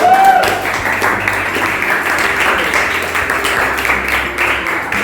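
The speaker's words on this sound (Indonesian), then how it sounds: "kita berikan aplaus pada Joe" Classroom applause for a student named Joe, a broad steady wash of clapping that holds fairly loud for about five seconds, with no voices standing out over it.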